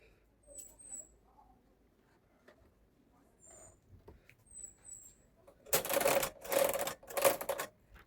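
A domestic knitting machine having its punch card swapped, with faint clicks and handling noises followed by three loud, rapid mechanical rattling bursts close by.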